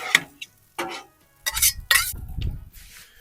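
Fresh-cut onions and green onions stir-fried for beef ramen, with a few short scraping and clinking stirs in a pan followed by a louder burst of sizzling, close and without talk.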